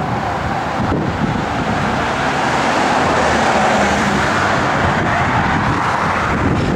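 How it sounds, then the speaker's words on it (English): A 1964 Chevrolet C10's stroker engine idles and runs steadily throughout, with a deep, rumbling low end and constant broadband roar, close and fairly loud. "a real good sounding 33 stroker motor"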